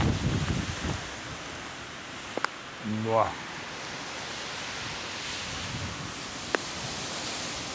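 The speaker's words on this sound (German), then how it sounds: "Also der Wind ist unangenehm, weil er so stark ist." Strong wind buffeting the microphone on a mountain summit, a constant loud roar with a brief spoken exclamation partway through and a few sharp clicks.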